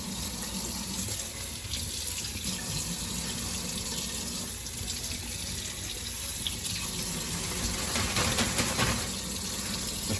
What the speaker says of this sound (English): So let's turn on the water first. And now let's run it underneath it.